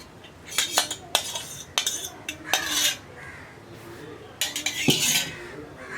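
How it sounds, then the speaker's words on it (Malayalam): Spoon stirring curd into a bitter gourd buttermilk curry in a clay pot, with several separate clinks and scrapes coming in short bursts, close by and fairly soft, with no talking. "തൈര് ചേർത്തിട്ട് നന്നായിട്ടൊന്ന് ഇളക്കി മിക്സ് ചെയ്യുക"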